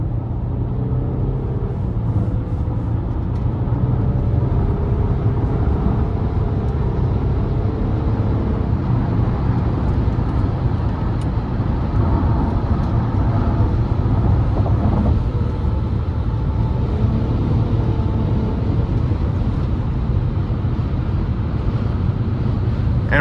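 Interior drive noise of a 2015 Nissan Quest SL minivan with a 3.5 liter V6 and CVT, a steady low engine and road rumble with wind noise, continuous and even throughout.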